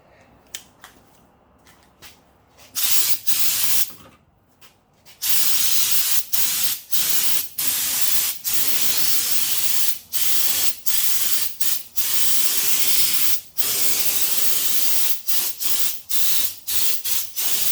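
Air-powered spray gun applying Fluid Film undercoating beneath a 2016 Super Duty truck, a loud broadband hiss in repeated bursts separated by short gaps, close to the microphone.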